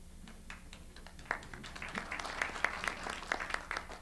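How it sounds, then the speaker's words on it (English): Sparse, scattered claps from a small audience at a civic City Club regional government forum, quiet and irregular, several sharp individual claps standing out over low room noise. "That clapping wasn't for me, David."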